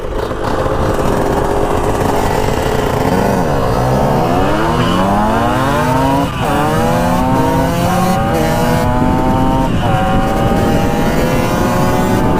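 A Yamaha MX 175 dirt bike and a newer dirt bike accelerating side by side, loud two-stroke engines revving up and climbing in pitch through repeated gear shifts, continuous and close with no talk.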